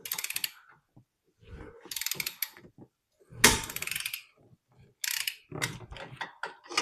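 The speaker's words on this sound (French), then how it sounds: "au repositionnement du disque et de l'étrier qu'on va serrer à la clé dynamométrique" A torque wrench tightens the brake caliper bolts on a Mini Cooper S, giving close, sharp bursts of ratcheting clicks separated by short silences, with no talking.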